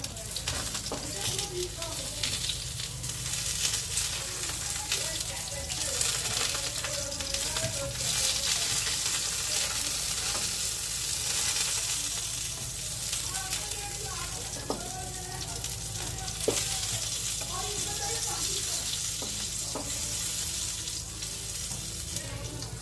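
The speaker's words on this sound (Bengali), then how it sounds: "অপর সাইডটা উল্টে দিচ্ছি ভেজে নেওয়ার জন্য" Brinjal slices frying in oil in a kadai, flipped to the other side: a continuous loud sizzle with scattered clicks and scrapes of a spatula against the pan, under a faint low hum.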